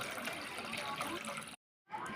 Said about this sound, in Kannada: ನೋಡ್ರಿ, ಪಾತ್ರೆದಾಗ ನೀರು ಹಾಕೋಬೇಕ್ರಿ.